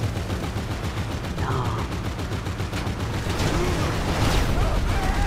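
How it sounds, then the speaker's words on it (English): Rapid bursts of video game gunfire crackle throughout, dense and repetitive like automatic weapons, with a vehicle being driven amid the shooting and a faint voice underneath. "Can you stop shooting?"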